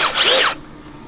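A Makita 40V cordless auger drill whirs loudly for about half a second with a rising and falling pitch, then cuts off, leaving a faint steady hum.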